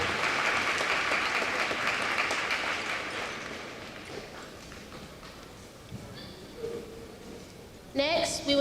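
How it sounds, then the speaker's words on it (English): Applause from a school Veterans Day assembly audience honoring veterans: broad, dense clapping that fades gradually over several seconds, followed by faint scattered sounds and a brief burst of voices at the end. "Please give our veterans a round of applause."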